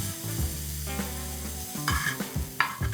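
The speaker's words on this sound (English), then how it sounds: "So while I'm sauteing the masala, I'm mashing it as well" Chopped tomatoes and masala sizzle in a pan while being sautéed and mashed, with close scraping and stirring strokes over a steady frying hiss and no talking.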